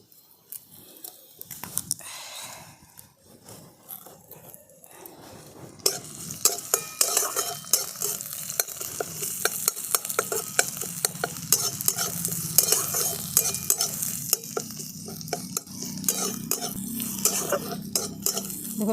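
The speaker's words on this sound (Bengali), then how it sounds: "ফোড়নে দিয়ে দিচ্ছি এই থেতো করে রাখা রসুন। দিয়ে দিচ্ছি 2টো শুকনো লঙ্কা।" Crushed garlic and two dried red chillies fry in hot oil, a loud, close, continuous sizzle with repeated scraping and clinking of a utensil stirring against the pan.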